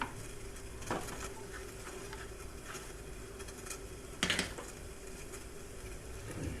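A spoon scrapes and taps through yogurt as it is stirred into an egg posto curry in a pan, with soft faint sizzling underneath and two sharper clinks against the pan, quiet and with no talking.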